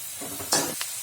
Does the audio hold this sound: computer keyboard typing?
no